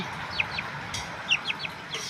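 A young Thai jungle fowl rooster gives a quick run of high, short clucks and chirps, two brief bursts separated by a pause, close by over light background noise.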